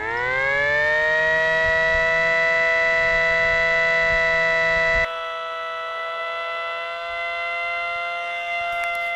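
A Mini SD-10 electric siren on its outdoor noon test holds a loud, steady wailing tone at full pitch, about ten feet away. The tone drops slightly in loudness partway through and keeps sounding to the end, with no talking.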